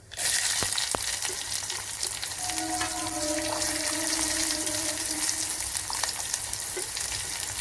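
Chopped onion, mustard seeds and cumin crackle in a spoonful of hot oil as a tempering for ridge gourd chutney, a loud, dense, continuous sizzle heard close up with no talking.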